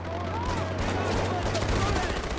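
Gunfire in the video game Far Cry 4 crackles in a dense, continuous burst of shots over a steady low background hum.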